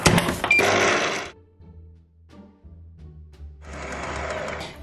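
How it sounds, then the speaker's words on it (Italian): A planetary stand mixer whips cream with granulated sugar for a dark chocolate ganache tart: loud whirring bursts at the start and end, with a quieter motor hum in between. "E adesso andiamo a montare in planetari."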